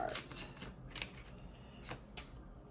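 Oracle cards being shuffled by hand at close range, in quick riffling bursts separated by brief pauses.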